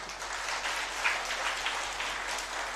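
An audience claps hands at a religious court gathering, a steady dense patter of applause holding at moderate, even level throughout.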